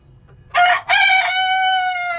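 A Sonali breed rooster crows once from close by in a chicken-rearing yard. The crow is loud and clear, with a short opening burst and a long sustained tone, and there is no talk.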